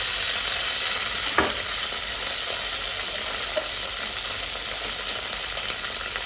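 Green chillies frying in oil in a pan give a steady, close sizzle that hisses evenly throughout, with a couple of faint stirring clicks and no talking.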